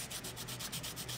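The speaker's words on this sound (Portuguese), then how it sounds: "Lixa com essa mais forte." Sandpaper rubbed briskly back and forth over a 1/72 scale plastic MiG-23UB/MiG-27 model kit, a coarser grit, with steady repeated strokes close up and no other sounds.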